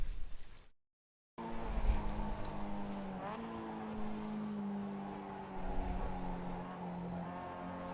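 A Mazda MX-5 race car in a racing simulator laps Sebring through the final turn, its engine a steady droning whine that rises slightly in pitch, after a brief cut to silence near the start.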